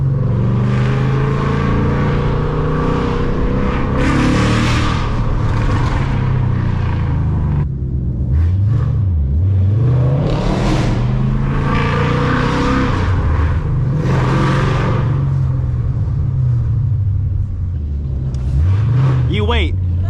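Ford Mustang GT driving hard through city streets at 3 a.m., engine rumbling loudly and continuously with surging revs and gear changes, people talking over the engine throughout.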